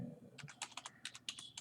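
Clicky keystrokes on a computer keyboard as text is typed into GIS mapping software, a quick uneven run of about a dozen close, fairly soft taps with no talking.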